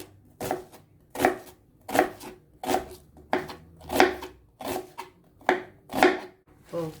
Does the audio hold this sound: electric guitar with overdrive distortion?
no